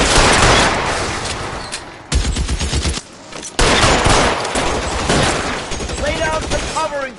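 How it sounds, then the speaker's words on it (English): Gunfire in a video game shootout in L.A. Noire: loud, dense bursts of rapid shots and automatic fire fill the scene, briefly cutting out before resuming, with shouted voices over the fray near the end. "Lay down for covering fire."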